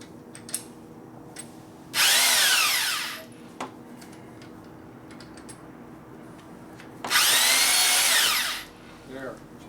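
Two bursts of whirring drill-driven hone scrape inside a 5.7L LS engine block cylinder during backyard honing, each lasting about a second and a half with a quiet pause between them and small clicks around them.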